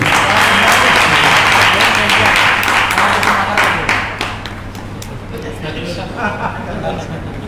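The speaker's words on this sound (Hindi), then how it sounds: "बोलो श्रीधर महाराज जी की ताली बजा दी" Loud, dense applause from an audience at a gathering in Delhi. The clapping holds steady for about four seconds, then eases to a lighter patter that continues under some background voices.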